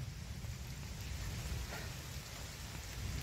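Unseasonal rain falls steadily over Sindhudurg district on the Konkan coast, a soft, even hiss of drops with low rumbling undertones and no voices, continuous throughout.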